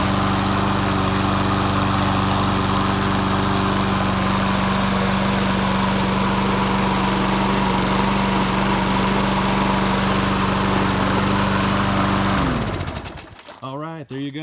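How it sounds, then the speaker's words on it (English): A Troy-Bilt push mower with a 190cc Briggs & Stratton engine runs at a loud, steady drone for about twelve seconds, then cuts off and winds down abruptly near the end. "it's a Briggs & Stratton engine, 190 cc's"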